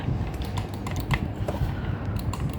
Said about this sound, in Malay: trigger switch ni, pastikan dia ada free play, ada spring dan ada bunyi klik pada switch